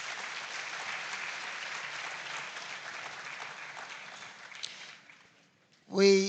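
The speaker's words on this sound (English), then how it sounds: "let's give ourselves a round of applause" A crowd at a school farm awards grand final applauds in a steady, even burst that fades out near the end, followed by a short loud tone at the very close.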